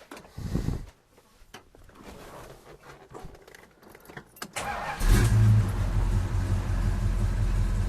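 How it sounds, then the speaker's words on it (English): A 1969 Dodge Super Bee cranks over with a few starter bursts, then catches at about five seconds and settles into a loud, steady idle, close by. "I'll start the car up"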